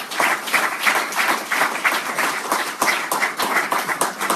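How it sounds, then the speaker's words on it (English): A church congregation breaks into lively, dense applause, many hands clapping in a steady loud roar with sharp individual claps standing out throughout. "Let's give the Lord a round of applause"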